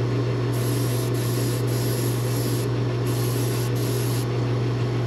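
Paint sprayed in short bursts as a light mist over the silver top of a shad fishing lure, two pairs of hissing spurts over a steady low hum, close and fairly loud.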